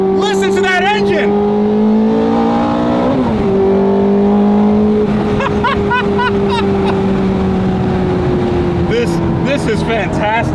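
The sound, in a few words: Ferrari 430 Scuderia engine accelerating while driving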